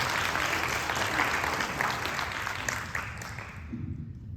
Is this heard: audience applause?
yes